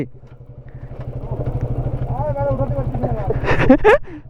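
A motorbike carrying two riders labours up a steep hairpin turn on a cold mountain road near Lava and Lolegaon, its engine chugging in a rapid, steady pulse that swells as it strains, while voices shout over it.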